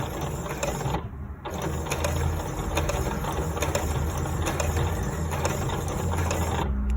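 A sewing machine stitching heating pad fabric runs in a steady, close mechanical chatter, briefly easing twice, with no voices.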